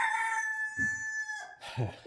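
A crested court chicken (czubatka dworska) rooster crows close by, a long ringing call that trails off, followed by a few short clucks.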